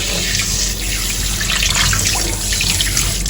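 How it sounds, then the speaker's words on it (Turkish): Water runs steadily from a kitchen tap fitted with a swivel aerator, a close, continuous splashing rush into the sink with no talk over it. "Şu su sesi de yemin ediyorum terapi gibi."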